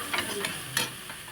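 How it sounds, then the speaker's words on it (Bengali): Semolina is stirred in a pan until it gathers into a dough. A soft sizzle runs throughout, with a few scraping strokes of the spoon against the pan. "যতক্ষণ না কোড়া থেকে ডোটা ছেড়ে আসছে ততক্ষণ কিন্তু এইভাবে সুজিটা নেড়ে যেতে হবে"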